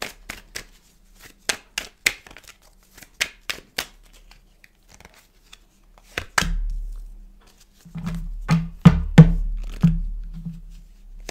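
Tarot cards being laid out and handled on a table, a quick series of crisp separate snaps and flicks, then softer shuffling and thumps, close and clear with no talk.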